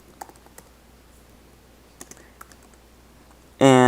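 Code typed on a computer keyboard in a handful of light, scattered clicks over quiet room tone, ending with a brief loud burst.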